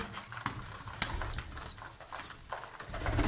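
Pigeons in a loft for a giveaway: scattered wing flaps, scuffling pats and soft coos close by, irregular and fairly quiet, with no one speaking.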